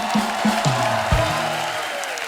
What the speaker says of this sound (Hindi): जोरदार तालियां बनती हैं।